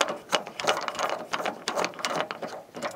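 A screwdriver drives a screw into a hard drive bracket inside an HP Pro 3130 MT desktop, giving a rapid ratcheting, clicking mechanical chatter up close over three seconds.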